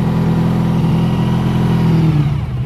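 A 1986 Honda VF1000R motorcycle engine runs steadily as it warms up, a loud, close, even low rumble with a constant tone that dips and falls away near the end, with no talking.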